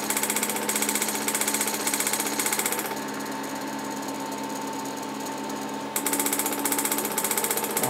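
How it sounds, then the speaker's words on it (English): A Coherent 15 watt laser engraver working dark acrylic keeps up a rapid, continuous mechanical clicking and buzzing from its relay. The noise is steady and close, eases off for a few seconds midway, then returns. "the noise that you can hear is the sound of a relay"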